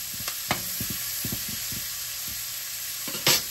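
Ingredients sautéing in a pan for a drumstick and shrimp curry with black cumin seed. A run of quick, close spatula scrapes over a low sizzle, then a pause and one sharper scrape near the end.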